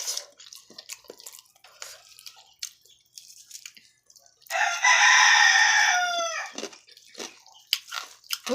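A rooster crows once, loud and close, in a single drawn-out call lasting about two seconds, amid scattered clatter and short bursts of people talking nearby.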